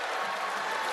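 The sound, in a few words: crowd clapping at a basketball game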